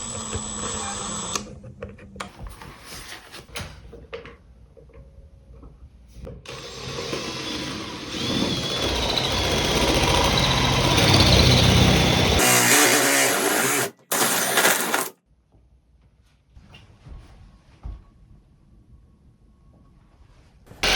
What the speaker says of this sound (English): I use this Milwaukee adjustable hole cutter to cut the holes for the lights